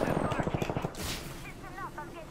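Rapid automatic gunfire in the game Apex Legends, a fast burst of close, punchy shots in the first second, followed by game noise and voices talking over it.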